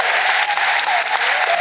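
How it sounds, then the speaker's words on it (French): A church audience applauds in praise of God, a dense, steady wash of clapping that fills the whole short stretch at an even, fairly loud level. "Maintenant, vous allez applaudir pour Dieu."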